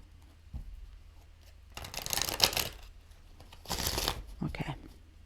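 Tarot cards are shuffled in two bursts of quick riffling and slapping at close range, separated by quiet pauses, with a short tap near the start and a brief flutter at the end.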